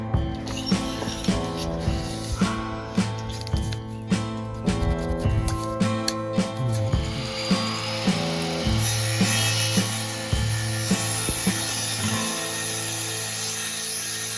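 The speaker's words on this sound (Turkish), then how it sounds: "arka taraftaki vidalama işlemlerinden sonra diğer boş kalan kısmın fazlalıklarını keserek alıyoruz." A power saw cuts off excess timber on a wooden tiny house being built in a field, with repeated buzzing bursts and sharp knocks running steadily throughout, close and fairly loud.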